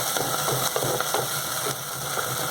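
A spoonful of ginger garlic paste fries in a pan for a cauliflower potato curry, giving a steady, close hiss with faint clinks of stirring underneath and no voices.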